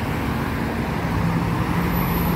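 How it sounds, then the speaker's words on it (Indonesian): Buses and other traffic roll past on the Jogja–Solo road at Jogonalan in Java, making a loud, continuous roadway roar with a low engine drone throughout and a faint high whine near the end. "selamat menyaksikan bis apa aja yang akan lewat di sini"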